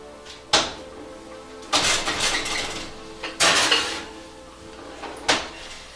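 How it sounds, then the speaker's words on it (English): A pot of sausages in tomato and onion sauce is covered with its lid and slid into the oven. Several sharp metallic clanks and knocks are separated by short pauses against faint kitchen background. "Then we put the cover, and it's up in the oven for about 45 minutes."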